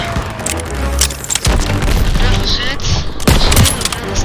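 Loud, close gunfire and booming blasts from Call of Duty WWII's fortress battle, with bursts of rapid shots and heavy thuds in quick succession. Voices call out in Polish between and over the shots.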